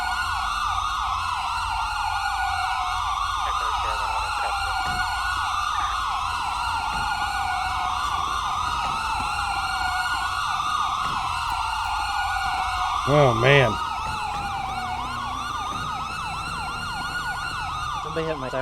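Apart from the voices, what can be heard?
police car siren in GTA 5 roleplay video game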